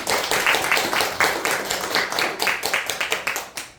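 A church congregation at an Easter Sunday service claps together in a steady rhythm, with loud, close, evenly spaced hand claps repeating throughout.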